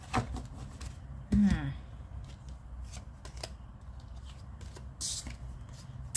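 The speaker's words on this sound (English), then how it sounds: "Let's take one last shuffle." Tarot cards shuffled by hand, a brief burst of riffling and flicking near the start, then quieter handling of the deck under light background noise.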